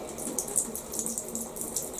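Liquidy splashing and trickling as The Works tub and shower cleaner is poured onto a shower surface, a steady close wet hiss with small spatters, no talking.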